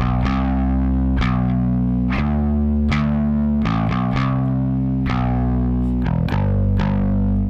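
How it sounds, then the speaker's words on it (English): An isolated, heavily distorted electric bass track from a rock song plays alone, loud and close, with sustained growling notes struck in a steady pattern of repeated attacks and a few quick doubled hits. "If you listen to the isolated bass track, you actually only hear this."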